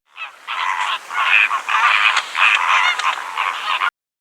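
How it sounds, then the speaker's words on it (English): A flock of flamingos honks continuously, a dense overlapping chorus of nasal, goose-like calls close by and loud for about four seconds. "Flamingo."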